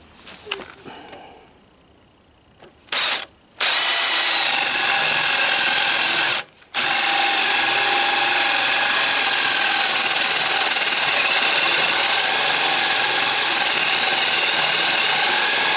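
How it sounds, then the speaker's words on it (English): A power drill bores a hole through a wooden kitchen chair being turned into a rocking chair, a loud, sustained whirring grind that starts in short bursts with brief pauses, then runs continuously and close. "We got that hole drilled."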